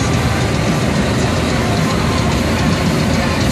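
A John Deere 6330 Premium tractor with about 1,000 hours runs steadily at idle, a loud, dense engine rumble heard from inside the cab without a break.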